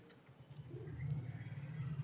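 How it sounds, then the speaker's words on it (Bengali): A pigeon coos softly nearby, a low rolling murmur that swells briefly in a quiet setting with no talking. "এই হচ্ছে পায়রা"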